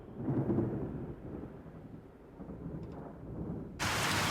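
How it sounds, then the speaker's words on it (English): A hard rain and hail storm with low rumbling thunder, the rumble fading before a sudden loud burst of heavy rain and hail in the last half second. No voices. "Hailstones struck her face."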